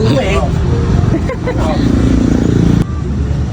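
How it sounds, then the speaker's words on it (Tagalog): A parked motorcycle with newly refitted mag wheels idles with a steady low engine rumble close by, while voices chatter over it and outdoor background noise continues. "Ito ang motor ni Joben."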